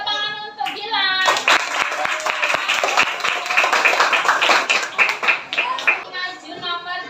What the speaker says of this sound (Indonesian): kita beri tepuk tangan untuk Gilang